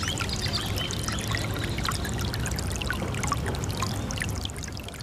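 Spring-fed water at Barton Creek swimming pool near downtown Austin, a steady close pouring and trickling rush that holds an even level throughout before easing slightly at the end.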